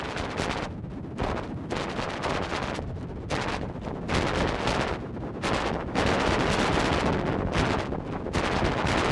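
A SikTone Space Invader synth patch with fast modulated filters gives a dense, noisy, broken-sounding crackle that swells and dips in rapid bursts, loud and continuous with no talking.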